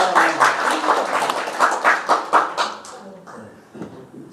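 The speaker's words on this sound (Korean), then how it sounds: "우리 박수 한번 쳐주세요." Church congregation applauding during a Korean service, a rhythmic burst of claps that fades toward the end, mixed with some voices.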